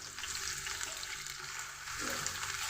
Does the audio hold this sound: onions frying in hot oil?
yes